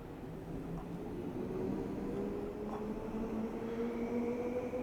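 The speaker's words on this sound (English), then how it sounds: "You get purple trains coming in and going out." London Overground trains in Train Sim World 5 rumble past with a steady low drone and rising tonal whine, the sound holding at a constant level throughout with no talking.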